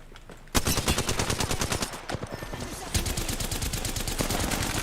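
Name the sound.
gunfire in the video game Apex Legends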